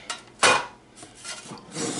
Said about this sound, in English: I think I'm gonna get out my 8x8 and use this instead of one of the pans.